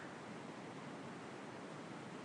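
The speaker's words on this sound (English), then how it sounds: "Notice the sounds created by the current of the river." A river current at Belle Isle rushes in a steady, unbroken wash of broadband noise, close and even throughout, with no voices.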